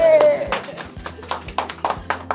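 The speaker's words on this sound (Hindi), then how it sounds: "तालियां" Audience at a cinematography workshop clapping, with scattered uneven claps mixed under ongoing voices and talk.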